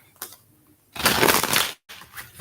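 Tarot cards are shuffled by hand in a couple of short bursts, with a brisk papery riffle in the middle and softer rustling before and after, close up.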